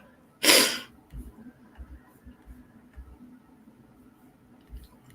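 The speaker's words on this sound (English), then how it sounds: "Achoo." One sharp, loud sneeze bursts out close to the microphone, followed by quiet sniffling, breathing and faint rustling in a calm indoor room.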